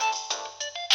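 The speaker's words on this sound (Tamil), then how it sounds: "போன் அடிக்குது பாருப்பா." A telephone rings in short electronic ringtone bursts, repeating several times in quick succession, loud and close with no one speaking.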